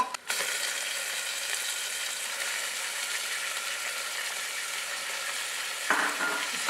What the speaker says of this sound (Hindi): गोश्त को हमने अच्छी तरीके से तेल में और प्याज में तल लिया है।